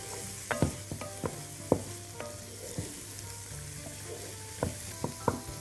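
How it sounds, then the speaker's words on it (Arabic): Carrots sizzle and fry in a pot for a potato and carrot soup while a spoon stirs them, giving a constant crackling fry broken by repeated scraping knocks of the utensil against the pot, close and alone. "ادي كده قلبنا الجزر شوية"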